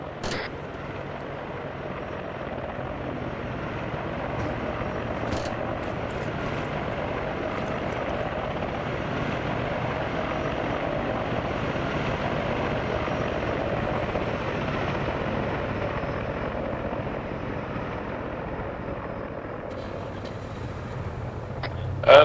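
A military helicopter in the Arma 3 game spools up and lifts off, its steady rotor whine and broad throbbing wash holding loud and even throughout, with a brief sharp knock near the end.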